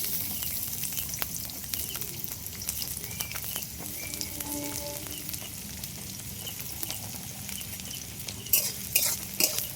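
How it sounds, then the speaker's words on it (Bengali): Chopped onion frying in white oil in a pan for a chicken dish, a steady close sizzle with repeated scraping and clinks of a spoon stirring throughout. "পেঁয়াজ কুচিটা একটু ভাজা ভাজা করে নেব।"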